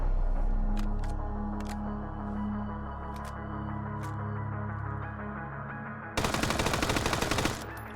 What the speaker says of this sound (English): Let's try the MP5 here. Let's aim at this rock.